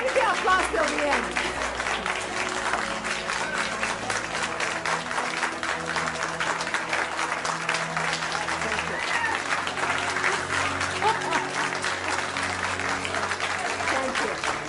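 Sustained audience applause at a debate on religion, dense and steady for the whole stretch, with crowd murmur and voices mixed in underneath.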